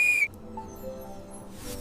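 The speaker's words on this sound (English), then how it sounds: "We found your classic lucky whistle in the museum garden." A classic lucky whistle found in a museum garden gives a single short, shrill, steady blast at the start, then cuts off, leaving only a quiet background hum.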